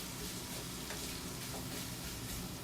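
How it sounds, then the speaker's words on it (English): Food covered in melted cheese being stirred in a pan, giving a quiet, steady sizzle with soft scraping throughout. "And then just stir it."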